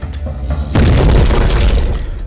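A loud, deep explosion from the first-person shooter Shadow Warrior bursts in suddenly and holds as a heavy rumbling boom, with sparse game sounds before it.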